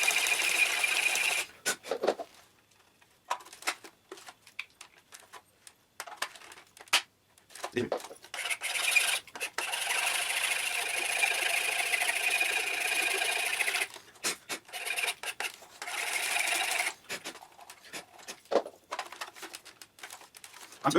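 Hand file rasping on a plastic model kit part for an M41A assembly, close and steady with repeated scraping strokes that pause briefly now and then.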